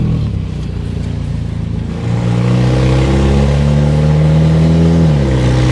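A 1991 Plymouth Colt Vista with a Mitsubishi 4G63 engine and 74K miles accelerates loudly from inside the cabin, its engine note climbing steadily then dropping sharply as it shifts from first gear to second.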